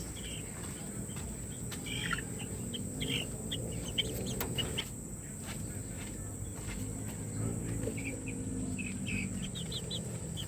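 Chickens cluck softly in the background at night amid steady insect chirring and low rustling, with faint bird calls scattered throughout.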